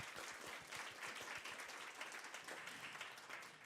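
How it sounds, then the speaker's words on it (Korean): Audience members at a 2025 AI ethics seminar clap in a faint, distant round of applause that holds steady for a few seconds. "박수 한번 부탁드리겠습니다."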